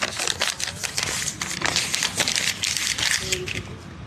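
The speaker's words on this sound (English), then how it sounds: "I fold the paper" A sheet of paper is handled and folded, giving a run of close, crisp rustles and crinkles in quick irregular bursts that sound fairly loud against a quiet room.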